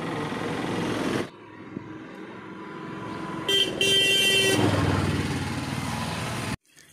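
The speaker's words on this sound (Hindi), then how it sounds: "फिर भी गाड़ी वाड़ी तो चल ही रहा है" Vehicles pass along a village road, a car engine swelling and fading with a short horn toot in the middle, loud and close, then cutting off abruptly near the end.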